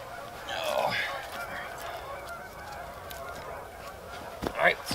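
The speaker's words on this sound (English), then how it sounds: "Man, listen to those geese." Canada geese honk repeatedly from a distance, a scattered chorus of nasal calls rising and falling, with a couple of louder honks near the end.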